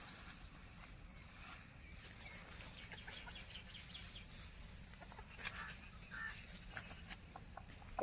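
Loose chickens cluck faintly and intermittently in the background while being chased around a yard, with scattered bursts of activity and no speech.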